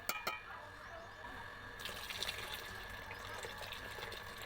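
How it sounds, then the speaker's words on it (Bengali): Water poured into a pot of boiled lentils and mango over a clay village stove, a steady gushing splash lasting throughout, close and moderately loud. "তার মধ্যে জল দিয়ে দেব"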